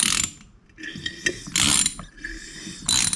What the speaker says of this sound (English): you can hear the compressor turning internally when I crank this